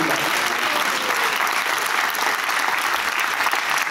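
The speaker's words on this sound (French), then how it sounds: "Applaudissez-le." Steady, dense applause from an audience at a French public debate, a continuous even wash of clapping with a faint crowd murmur beneath, no talk over it.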